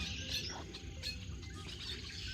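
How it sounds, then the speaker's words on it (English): Birds chirp from a tree near a marsh, faint scattered tweets and calls over a soft bed of insect buzzing in a quiet outdoor setting. "so far I've seen lots of birds today and heard lots of birds"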